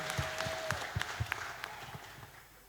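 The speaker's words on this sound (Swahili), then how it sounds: "Tupigie ni makofi, ameconfirm kweli ni yeye." Wedding guests at a church ceremony clap in a loose, uneven rhythm, individual claps standing out and gradually thinning as the applause fades toward the end.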